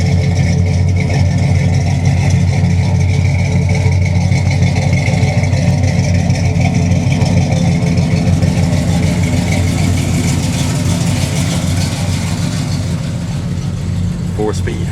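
A 1966 Chevrolet Chevelle SS 396 idles through its exhaust pipes with a loud, steady, low rumbling burble that carries on throughout, close up and without a break.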